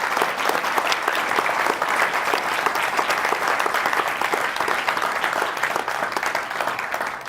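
Sustained audience applause at a university speaker-series talk, a dense, even wash of many hands clapping that holds steady throughout and tapers slightly at the close.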